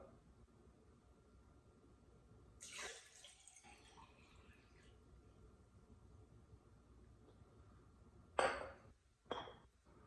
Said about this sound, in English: I'm simply going to pour the water into this glass and see if it fills near the top